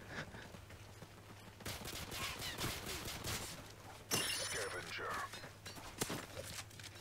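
Bursts of gunfire in Call of Duty MW3, several separate volleys of rapid shots, some loud and close, with a player talking over the action.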